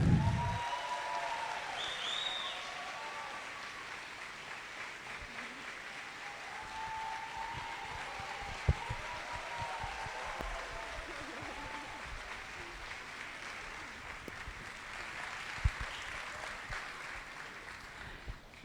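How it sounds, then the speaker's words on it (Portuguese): Audience applause at a literary festival in Maringá, greeting a singer: steady, dense clapping from a sizeable crowd that holds for the full length at an even level, with a few sharper claps standing out. "Com vocês, uma salva de palmas"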